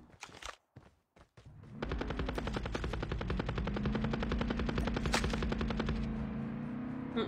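Sustained rapid machine-gun fire rattles through a shooter video game after a few scattered opening shots, loud and close, continuing for several seconds with no talking.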